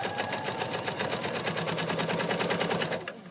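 A sewing machine with a wide hemmer foot stitches along a fabric hem in a fast, even, rapid rhythm, running close and steady for about three seconds before stopping.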